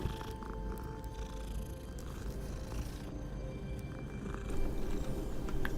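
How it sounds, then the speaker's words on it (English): A cat purrs steadily and softly while being petted in the Hogwarts Legacy video game, a low continuous rumble running throughout with faint ambient game sounds. "Oh, I'm petting the cat."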